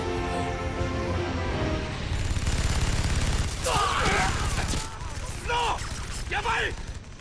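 Gunfire in the Final Fantasy XIII video game, a busy burst of rapid shots and clattering mechanisms over a dense game soundtrack, with short swooping effects toward the end.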